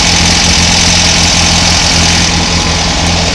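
A loud, steady Volkswagen 2-litre engine idles with a constant low hum and even mechanical rumble, running continuously without revving.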